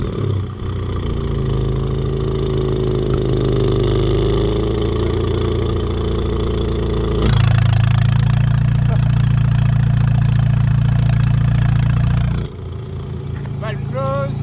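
An Audi S3 8V with a bonnet exhaust runs with the exhaust valve closed, giving a loud, steady, close engine drone that rises into a heavier, fuller tone midway and then drops back.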